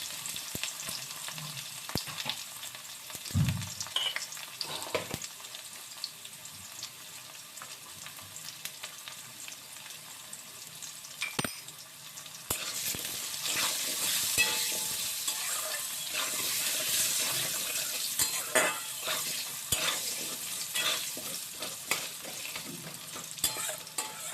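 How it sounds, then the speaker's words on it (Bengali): Cut potatoes frying in a pan with a little salt and turmeric, a soft crackling sizzle with occasional spatula stirs and clinks, growing louder and denser partway through and continuing steadily, with no talking. "আলুটাকেও সামান্য নুন হলুদ দিয়ে ভেজে নেবো"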